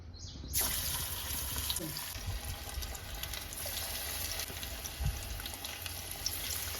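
Marinated fish pieces frying in hot oil give a constant, soft, hissing sizzle that starts abruptly and holds steady, with a faint clink or two and no speech.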